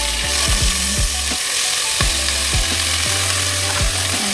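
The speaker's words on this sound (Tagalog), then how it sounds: "yung parang ipa-fry ko muna yung baka" Beef pieces frying in a pan for nilagang baka, a steady close sizzle broken by repeated metallic scrapes and knocks as the meat is stirred and turned, with no talking.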